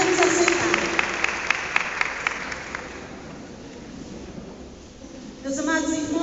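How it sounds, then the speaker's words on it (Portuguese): A church congregation at a Portuguese-language Catholic service claps in a steady rhythmic beat that fades out after a couple of seconds, followed by quiet room tone with someone speaking. "Aplaudamos a palavra de Deus."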